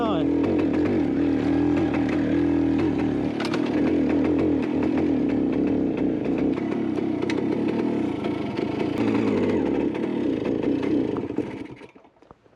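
Barn-find Kawasaki rotary valve two-stroke motorcycle engine buzzing loudly and unevenly, faltering and bogging before dying out at the end, with someone talking over it.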